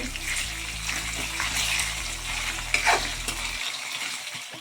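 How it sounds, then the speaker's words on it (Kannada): Green chilli and ginger paste fry in oil for vegetable pulao, a close steady sizzle with stirring under a low background hum that cuts out near the end. "ಶುಂಠಿ ಪೇಸ್ಟನ್ನು ಹಾಕಿ ಫ್ರೈ ಮಾಡಬೇಕು"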